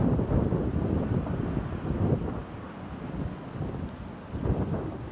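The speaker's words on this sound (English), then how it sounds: "stop battling with the wind" Strong wind gusts outdoors, buffeting the microphone in rumbling surges that rise and fall, loud and close with no voices.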